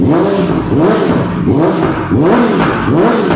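A 2017 Yamaha R6 with an aftermarket exhaust revs repeatedly up and down, five or so rising and falling blips in a steady rhythm, loud and close with no voices.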